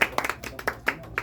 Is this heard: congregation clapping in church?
yes